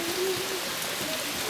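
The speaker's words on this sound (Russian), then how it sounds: "Уйди с дождя." Rain falls in a steady, even hiss of drops on surfaces. It is continuous and moderately loud, with no voices.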